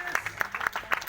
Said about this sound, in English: A big round of applause to Vishu.